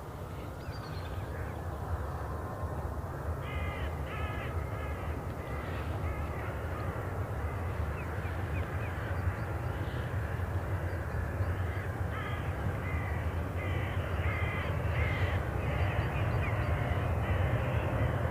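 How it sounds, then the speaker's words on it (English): Crows caw repeatedly in bursts outdoors at Newcastle International Airport, their calls carrying over a steady low rumble of background noise and traffic rather than sounding close. "Hear the bird song picking up, or the crow song picking up."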